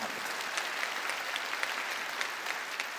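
Steady, dense applause from a church congregation during a New Year's Eve worship service, a continuous even wash of clapping with no voices over it.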